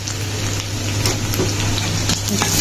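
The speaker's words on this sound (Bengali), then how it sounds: "আমি একটু রাত্রির জন্য পটল ভেজে নিচ্ছি" Pointed gourd (potol) frying in oil in a pan for dinner, giving a steady, continuous sizzle at moderate loudness with occasional soft pops and stirring scrapes, no voices.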